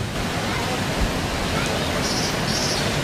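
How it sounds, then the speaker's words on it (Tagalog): Heavy rain pours during a typhoon in Parañaque and Muntinlupa, a steady, broad wash of noise throughout with no distinct drops standing out. "So sa ngayon ay bumubuhos na naman ang ulan"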